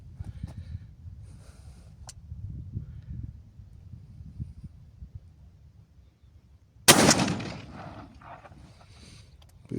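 A TOZ-34 shotgun fires once from its lower 0.9 choke barrel, loading a 28 g load of 7.5 sport shot, a single sharp loud blast with a decaying tail after quiet low rustling outdoors.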